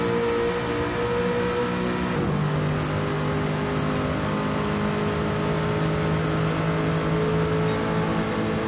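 A Gr4 race car in Gran Turismo at Road Atlanta, engine held at steady high revs down a long back straight, with a quick shift partway through and then a continuous droning whine at full throttle.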